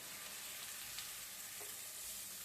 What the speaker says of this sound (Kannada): ಇದು ಉಪ್ಪು ಆಮೇಲೆ ಅರಿಶಿನದ ಪುಡಿ ಹಾಕಿದ್ರೆ ಜಲ್ದಿ ಫ್ರೈ ಆಗ್ತದೆ